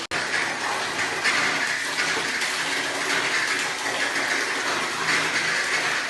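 Water pouring and splashing steadily at bathing time, drawn from a filled bucket, a continuous close rushing gush that lasts throughout with no voices.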